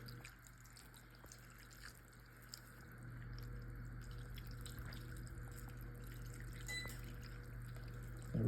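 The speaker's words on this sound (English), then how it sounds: "here we got 2 cups of milk. Gonna pour over it." Two cups of milk pour into a baking dish of chicken alfredo in a home kitchen, a soft continuous liquid stream and faint drips under a low steady hum, quiet and close.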